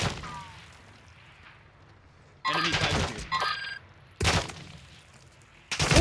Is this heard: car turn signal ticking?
no